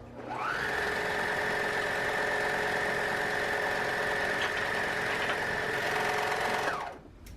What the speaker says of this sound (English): See, you're pretty quick with that serger